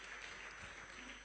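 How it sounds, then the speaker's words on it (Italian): Applause from an audience welcoming the arriving director, Don Gianni Cesena, at an evening gathering: a short, steady burst of clapping from many hands, moderately distant and fairly soft, without speech. "Lo accogliamo con un applauso!"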